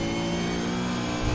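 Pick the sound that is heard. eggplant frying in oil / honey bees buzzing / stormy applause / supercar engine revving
supercar engine revving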